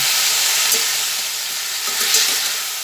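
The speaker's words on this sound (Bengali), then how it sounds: "আবার ভালোভাবে এটা ভেজে নিচ্ছি" Spiced green beans fry in a pan with a loud, continuous sizzle, broken by a few stirring scrapes.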